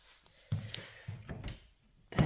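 Cabinet drawer in a master bathroom being opened and closed, a few hollow wooden thuds and sliding knocks spaced irregularly, close by and fairly quiet.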